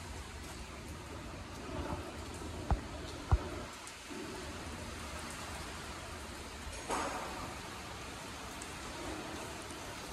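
Heavy rain falls at Reis Magos Fort in Goa as a steady broadband hiss throughout, with a couple of sharp knocks and a brief swell partway through.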